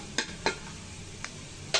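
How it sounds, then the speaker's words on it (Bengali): A cumin, garlic and chili tempering for chicken haleem fries in hot oil, a steady low sizzle broken by four sharp scrapes of a spoon stirring the pan. "তো বাগার দেওয়ার জন্য ফোড়নটা ভাজা হয়ে গেছে"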